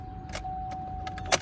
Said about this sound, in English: So there's just one click from the starter